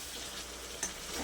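Garlic sautéing in a pan for mutton curry, a brief soft sizzle with a faint stirring scrape, quiet and close.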